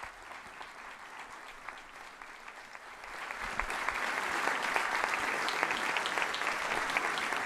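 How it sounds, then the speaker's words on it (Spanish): Bishops and an audience in a hall at Marseille's Palais du Pharo applaud the Pope's entrance: steady, dense clapping that swells louder midway and holds at a sustained level, with no talk over it. "los obispos, sobre todo, y todos los presentes lo reciben con un aplauso"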